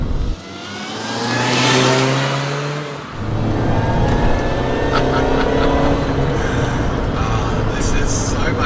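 A small BMW car's engine climbs in pitch as it accelerates, eases off briefly after a gear change, then pulls again with a steady, close drone.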